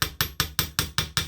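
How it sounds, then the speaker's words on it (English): Chasing hammer tapping a wire-wrapped ring loop to flatten it, seven sharp, evenly spaced metallic strikes in quick succession, close and clear. "I want to tap around this circle and flatten it with this wide side of the chasing hammer"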